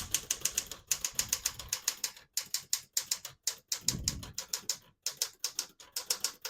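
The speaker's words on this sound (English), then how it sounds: "I'll type a sentence in red on the next line and switch from black to red." A 1960 Smith-Corona Galaxie portable typewriter types a line in red ribbon: rapid, crisp key strikes in quick bursts with short pauses, close and clear, with a few heavier thumps of the carriage mechanism.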